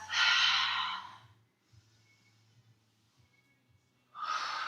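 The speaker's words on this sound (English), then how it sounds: "Really making the breath exaggerated here if that helps. So you can hear your own breath." Exaggerated pranayama breathing in a yoga flow: a long, loud, breathy exhale, a quiet pause with faint low background hum, then another strong audible breath beginning, close and alone without talk.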